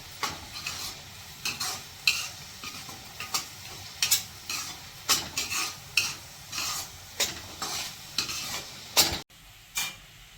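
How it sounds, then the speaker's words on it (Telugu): Ginger garlic paste and onion paste being stirred into chicken curry in a pan, a spoon scraping in a steady rhythm of about a dozen distinct strokes over a soft sizzle, close and alone without talk. "అల్లం వెల్లుల్లి పేస్ట్, ఆనియన్ పేస్ట్ కలిపి."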